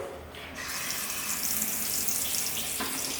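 Water from a kitchen tap pours through a filter as a loud, steady rushing stream that starts up in the first half-second and keeps running close by with no talking.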